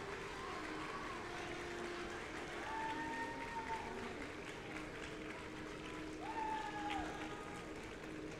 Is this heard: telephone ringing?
no